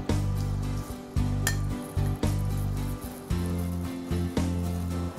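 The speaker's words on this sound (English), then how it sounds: "Preheat pan, add bit of olive oil and add the saffron potatoes" Saffron potatoes sizzling in olive oil in a preheated pan, a steady frying hiss with occasional clinks of pan and utensil, heard over a low sustained background tone.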